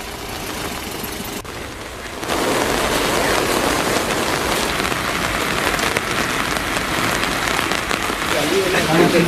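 Heavy rain pours steadily in a flooded residential area, a dense continuous hiss that grows louder after a brief quieter start, with a faint engine rumble underneath.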